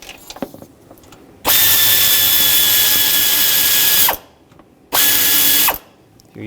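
A power tool spins off the accessory drive belt tensioner bolt on a 2007-2014 Chevrolet Silverado 2500. It sounds as two loud, close whirring bursts, one long and one short, with quiet clicks and handling noise around them.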